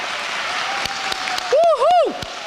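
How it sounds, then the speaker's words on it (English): A commencement audience at an adult high school cheers the graduates, sustained applause under a loud, rising and falling whoop from one voice. "I think we ought to give them a big cheer for getting here tonight."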